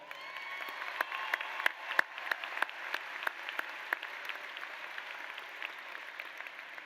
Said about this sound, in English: We'll take a round of applause for that.